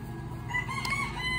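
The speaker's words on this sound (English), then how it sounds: "even when they crow, they're not really loud, but they do crow" A Silkie rooster crows once, a short, fairly soft cock-a-doodle-doo heard at close range over faint background hum, with no talk.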